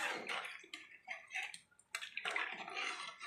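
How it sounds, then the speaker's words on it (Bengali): Water is poured into a pan of chicken curry with potatoes, making soft, close splashing and gurgling in a few uneven surges at low volume, with no speech. "পরিমাণ মতো জল দিলাম"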